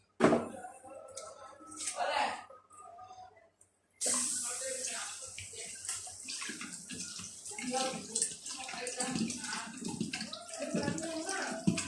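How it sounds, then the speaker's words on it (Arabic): Water pours from a tap into a pot of chicken soup in a home kitchen, a close, steady splashing gush after a short pause, with someone speaking over it. "هنزل انا بقى عليها بالميه"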